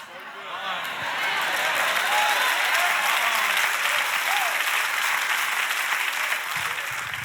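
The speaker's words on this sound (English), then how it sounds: "Kind of sketchy how much y'all clapped about that." Audience applause at a church sermon, a large crowd clapping in a dense, steady roar that swells in quickly and holds loud for several seconds.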